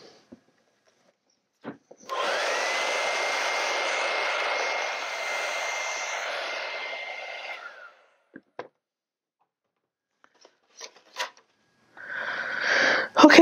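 Hair dryer blowing on an acrylic sunset ocean painting, a steady loud whooshing hum lasting several seconds before switching off, followed by scattered handling clicks and a brief restart at the end.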